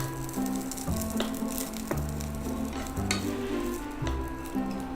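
Pasta with sauce sizzles in a pan and is tossed repeatedly, producing a steady close frying hiss broken by rhythmic scraping and stirring strokes about once a second.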